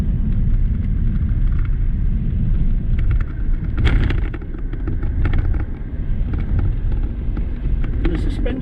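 Road noise inside a 2019 VW Touran driving up to the legal speed limit, a steady low rumble of engine and tyres filling the cabin while someone talks over it.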